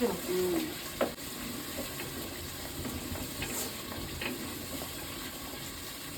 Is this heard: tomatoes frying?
yes